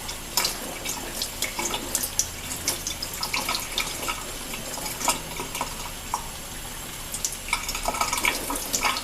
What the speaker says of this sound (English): I usually try to fill this up with fresh water, put it in, and then push it out.